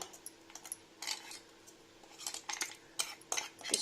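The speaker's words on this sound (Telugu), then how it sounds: "దీంట్లో వేసుకుని ఒకసారి కలిపేసుకుందాం" A spoon clinks and scrapes against a metal bowl in quick irregular strokes, stirring in ground roasted green chillies and water, fairly quiet and close.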